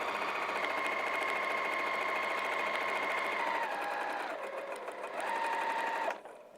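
A sewing machine stitches a vinyl project bag, a steady close motor whir that dips and speeds up again near the end before stopping abruptly.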